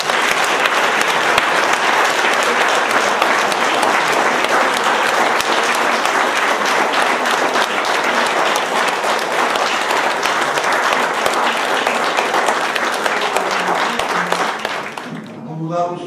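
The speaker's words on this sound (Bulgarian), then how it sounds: "Благодарност и овации към Георги Константинов" Sustained, dense audience applause follows a poetry recital at a literary reading marking 100 years of the Bulgarian Writers' Union, loud and steady for about fifteen seconds before tapering off abruptly at the end.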